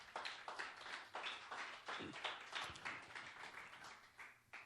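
A church congregation applauds, with a dense run of overlapping claps continuing for several seconds at a fairly faint level.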